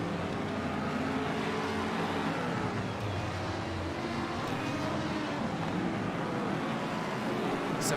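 Race cars sweep through the bus stop chicane at Daytona during the Rolex 24, including the Risi Competizione entry behind a Corvette, a steady broad engine roar carrying throughout without clear individual passes.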